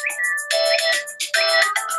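A mobile phone ringtone plays loud and close, a bright electronic melody of repeating tonal phrases in quick pulses that runs without a break.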